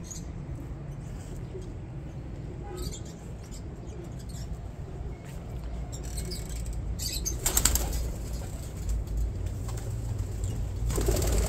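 Pigeons in a nest, a mother feeding her chick, with soft wing flaps and faint cooing over steady low rustling and background hum, growing slightly louder near the end.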